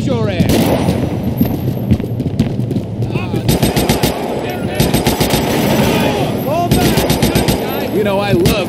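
Gunfire in the video game GTA IV, rapid automatic bursts of loud close shots repeating in several long strings, with game dialogue and shouting underneath.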